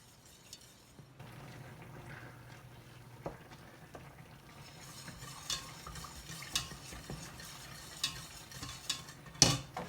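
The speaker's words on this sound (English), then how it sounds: "I'm going to raise the heat now to about 5, and I'm going to stir this continuously." A roux for Greek pastitsio is stirred continuously in a pot over raised heat, soft scraping with repeated clinks of the utensil against the pot that grow more frequent and louder toward the end, close and without talk.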